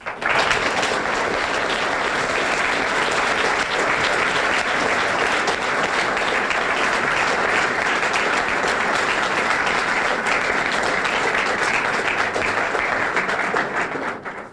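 Audience applause welcoming the author Dinesh D'Souza at a campus talk, a dense, steady wash of clapping from a large crowd that holds evenly for about fourteen seconds before fading out.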